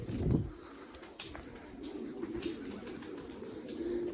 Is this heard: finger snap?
no